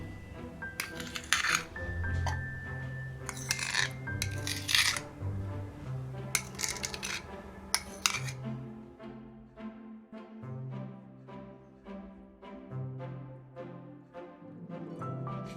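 A utensil clinks repeatedly against a bowl while egg and butter are mixed into donut batter, with bright metallic taps in bursts early on, then softer rhythmic knocks, close and without talk.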